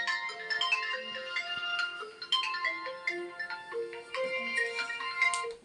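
A melodic phone ringtone plays continuously, a bright electronic tune with no talking.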